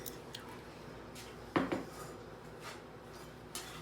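Thawed frozen broccoli drops into a pressure cooker pot with one brief soft clatter and thud, followed by faint handling noise in a quiet kitchen.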